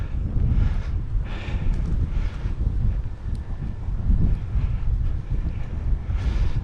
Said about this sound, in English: Extremely windy out here today.